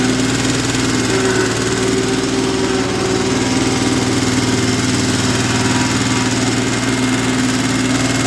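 A Ferris ProCut 61 mower's small engine runs steadily and loudly at a constant idle-like hum with vibration, close by and uninterrupted, with no talk.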